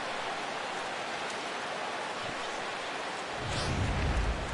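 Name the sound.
rain in MLB The Show 17 video game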